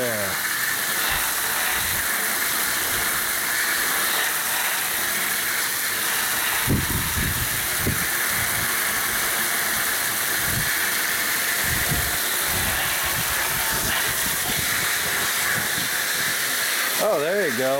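A water spray washes a pleated filter during a water system gunk flush, making a loud, steady hiss with a few brief thumps as it runs without pause, while people talk faintly underneath.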